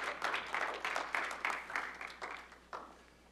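A lecture-hall audience claps for a professor about to speak, a scattering of individual claps building into moderate applause that thins and fades toward the end, fairly quiet and without speech.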